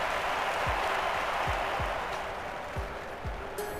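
Stadium crowd at the London 2012 Olympics applauds and cheers an athlete, a dense sustained roar of clapping and voices with a few low thumps underneath, steady and loud throughout.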